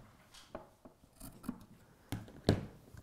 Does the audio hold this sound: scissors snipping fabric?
yes